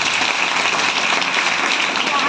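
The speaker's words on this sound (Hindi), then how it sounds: "जोरदार तालियों से स्वागत हो।" An audience at a police merit-list ceremony in a stadium gives dense, continuous applause, loud and close, throughout the short stretch.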